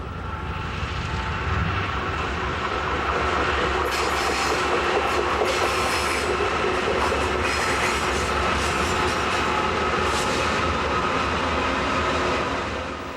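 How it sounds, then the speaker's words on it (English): A BNSF freight train pulled by three engines curls through Sullivan's Curve on its way up Cajon Pass, a loud, steady rumble of diesel engines and rolling wagons with clattering wheels, sustained and alone. "a Burlington Northern Santa Fe train curling its way through Sullivan's Curve"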